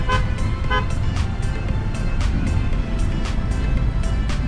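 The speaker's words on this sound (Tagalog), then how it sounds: "meron pong busina ng busina sa likod" A car horn honks repeatedly in steady short bursts from behind in busy street traffic, loud and close over continuous engine and road rumble, heard while riding an e-bike.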